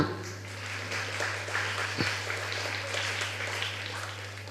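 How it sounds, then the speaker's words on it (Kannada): An audience claps steadily to welcome guests at a cluster-level talent event at St. Sebastian English Medium School in Permannur, a dense, continuous patter of applause over a low electrical hum. "ಮಗದೊಮ್ಮೆ ನಾವೆಲ್ಲರೂ ಚಪ್ಪಾಳೆಯನ್ನು ತಟ್ಟಿ ಅವರನ್ನು ಸ್ವಾಗತಿಸೋಣ."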